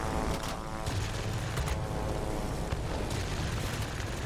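Rapid aircraft cannon fire and booming explosions in a flight combat video game, a dense continuous barrage with no pauses, loud and close throughout.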